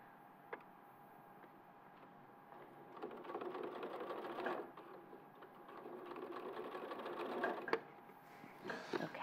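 Sewing machine stitching fabric in a steady mechanical whir that rises and falls as the seam is sewn, running continuously at moderate level with small clicks; no talking.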